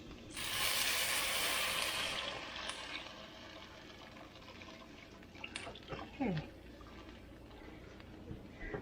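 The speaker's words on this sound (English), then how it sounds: "We're going to add our stock and water." Chicken stock and water are poured into a soup pot of vegetables for cream of chicken soup, a soft rushing pour for a couple of seconds followed by quieter splashes and clinks, with a person speaking briefly.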